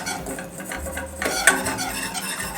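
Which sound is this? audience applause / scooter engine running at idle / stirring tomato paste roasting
stirring tomato paste roasting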